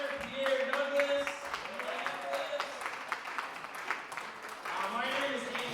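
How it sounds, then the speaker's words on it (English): Comedy club audience applauding as the headliner is introduced, sustained clapping and a few whoops running throughout, mixed with crowd voices and some tonal sound in the background. "Give a round of applause."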